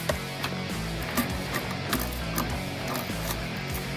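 Rapid ratcheting clicks repeat steadily up close as a hose clamp is tightened, securing an S&B cold air intake filter onto the intake tube of a Jeep Wrangler JL, with no talk.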